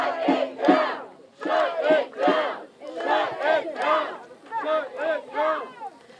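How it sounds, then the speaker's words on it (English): Protesters chant in unison at a street demonstration in Carrizo Springs, with loud rhythmic bursts of shouted phrases from a nearby crowd repeating in a steady cadence. "And you can hear the chanting."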